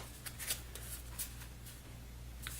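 Playing cards being drawn and shuffled during a game of The Big Book of Madness: quiet, scattered papery flicks and snaps at close range over a low steady background hum.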